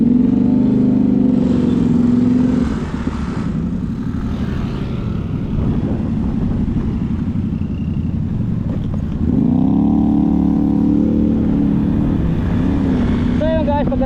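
A group of six motorcycles, two of them Honda Click scooters, rides together. Loud, continuous engine drone shifts pitch as they speed up, under heavy wind noise.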